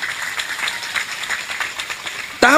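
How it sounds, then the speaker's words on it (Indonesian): At a religious gathering, an audience applauds Quran teachers with a scattered run of clapping, then a sharp, louder burst of voice near the end. "Tepuk tangan untuk guru ngaji."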